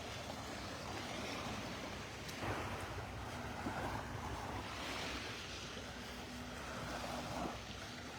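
Surf rolls steadily onto a beach in North Naples, Florida, a continuous wash of breaking waves with soft swells every few seconds, blended with wind rumble across the microphone and no talking.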